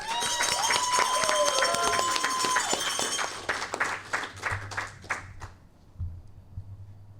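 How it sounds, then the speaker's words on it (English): Audience applause for newly inducted Master Sergeants at a military Senior NCO induction ceremony, loud and dense at first with whoops or whistles, then thinning to scattered claps and fading out. "How about a round of applause for our newest Master Sergeants?"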